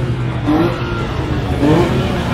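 A Lotus sports car revs its engine in a brief, buzzy rise-and-fall, heard twice over steady road noise, moderately loud and without speech.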